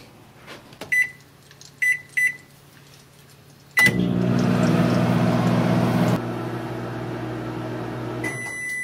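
Microwave oven heating a bowl of grits: several keypad beeps, then a clunk as the loud steady hum and whir start, a drop in level partway through, and a final beep near the end.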